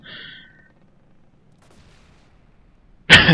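Naval guns firing at the battleship Bismarck in the game From the Depths, a sudden loud blast near the end after a quiet stretch with a brief faint tone at the start.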